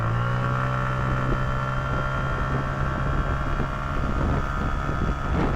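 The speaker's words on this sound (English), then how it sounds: "the exhaust note announces your arrival before you actually appear in anyone's rearview mirror" A VLF Mobster 125cc liquid-cooled scooter drones with a steady, continuous exhaust note, loud and close, with constant wind rush over it and no break in the sound.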